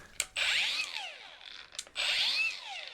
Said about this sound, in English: the motor on the DeWalt gets up to speed way faster